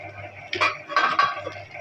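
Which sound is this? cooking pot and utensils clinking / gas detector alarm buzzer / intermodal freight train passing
cooking pot and utensils clinking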